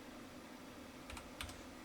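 A few quick keystrokes on a computer keyboard, two soft paired clicks close by over a quiet steady hum.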